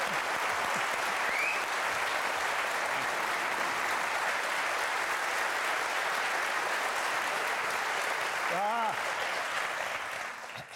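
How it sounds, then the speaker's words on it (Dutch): Sustained applause from a large audience in a full television studio hall fills the whole stretch, steady and loud, with a brief voice near the end as it begins to fade. "Mag ik een groot applaus, Erik Scherder!"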